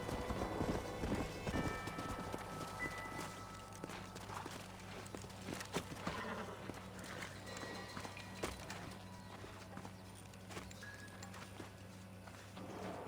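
Horse hooves in Red Dead Redemption clip-clop at a walking pace over a low, constant background hum, with scattered thuds and no clear talking.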